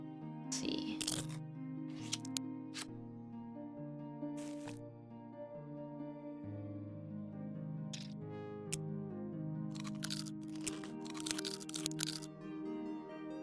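Crunchy, crackling sound effects from the puzzle game A Little to the Left play in short bursts over a sustained musical background, several crisp crunches clustered toward the end.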